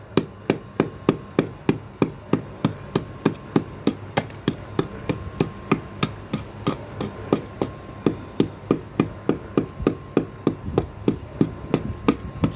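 A steel pick strikes soft NHL 3.5 lime mortar in a steady, even rhythm of sharp, close knocks, about two per second, with nobody speaking.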